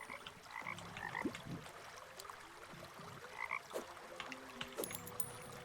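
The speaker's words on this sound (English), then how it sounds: "I hear a croaking." Frogs croak in the video game Terraria, repeated short warbling calls from more than one direction over a quiet ambient background, some nearer and some fainter, with no talking.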